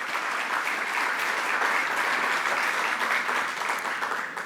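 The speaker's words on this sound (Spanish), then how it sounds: "Un aplauso para estas distinguidas personalidades." An audience at a panel discussion on social sciences and human rights in the Caribbean claps steadily and warmly, with dense, sustained applause filling the room from start to finish.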